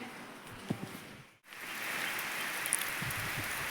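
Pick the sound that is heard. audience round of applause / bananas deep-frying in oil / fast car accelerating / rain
rain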